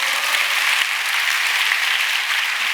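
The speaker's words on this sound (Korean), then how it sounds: "일단 박수를 한번 치고 갑시다" An audience at a Christian teachers' conference gives dense, loud, sustained applause that holds evenly from start to finish.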